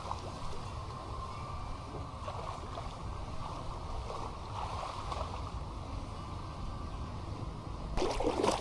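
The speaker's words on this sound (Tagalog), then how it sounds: "So yun yung dagat sa tapat." Sea waves off the shore at Calatagan, Batangas wash in a faint, steady murmur with soft wind, heard from a distance, and a brief louder rush comes near the end.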